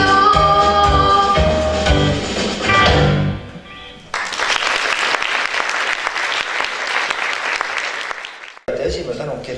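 Audience applause at a children's song show in Estonia, breaking out as music fades and continuing as dense, steady clapping for several seconds before a brief drop and resumption.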